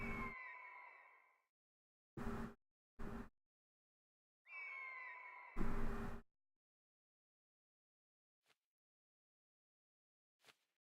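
Birds in the Planet Explorers video game give two drawn-out, harmonic calls that slide downward, each followed by short abrupt bursts, then a couple of faint clicks in otherwise silent game audio.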